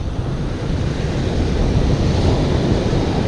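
Steady, loud wind on a beach after sunset roaring and buffeting the microphone, with a low rushing rumble like surf underneath, continuous throughout.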